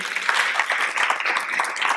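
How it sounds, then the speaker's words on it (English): A conference audience applauds the organizers with steady, dense clapping from many hands that stays even for the whole stretch, filling the room without pause. "so a big round of applause to the organizers and see you at nine"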